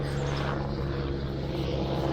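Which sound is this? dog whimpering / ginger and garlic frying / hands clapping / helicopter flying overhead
helicopter flying overhead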